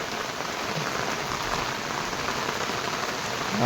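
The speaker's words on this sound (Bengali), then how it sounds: "এই দেখুন কত বৃষ্টি হচ্ছে আমাদের এখানে।" Heavy rain pours down steadily outdoors, a dense, even hiss of drops hitting surfaces, loud and unbroken with no voices.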